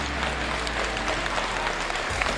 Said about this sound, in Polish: Brawa, brawa za ten duch sportu